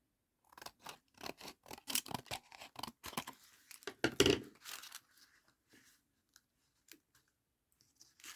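Scissors snip through paper trim in a quick run of close, crisp cuts, about a dozen sharp snips in rhythm, then a few faint scattered clicks in near silence.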